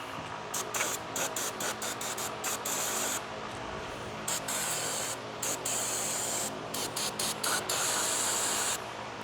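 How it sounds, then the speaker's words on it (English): Brake cleaner sprays onto the spindle bore of a Freightliner Cascadia truck during a king pin bushing job, in close, loud hissing bursts separated by short gaps, with no talking. "Now we're gonna hit it with some brake cleaner."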